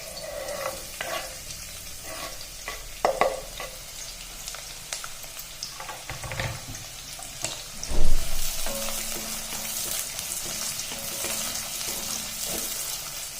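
Medium-cut onions sizzling and frying in hot oil in a pan for a Chettinad chicken roast, a steady crackle with occasional stirring scrapes and clinks, close and moderately loud, no talk.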